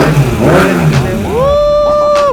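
A modified Kawasaki ZX6R race motorcycle revs sharply at close range, with quick throttle blips climbing to a high sustained wail before dropping off, and brief voices at the start.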